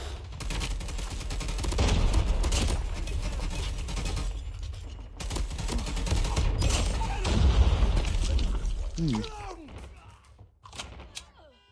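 Gunfire from a weapon in the mobile shooter Call of Duty Mobile, with dense bursts of in-game shots and mechanical clicks running through most of the stretch, fairly loud and continuous, tapering off near the end.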